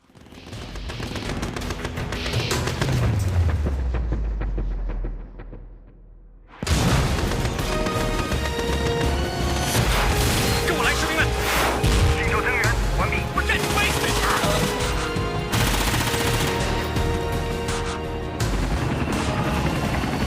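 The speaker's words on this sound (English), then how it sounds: "Artillery firing." Artillery fire and battlefield gunfire in a Battlefield video game, with loud booming blasts and dense crackling shots over a busy combat soundscape, following a quieter stretch that fades out before the barrage erupts.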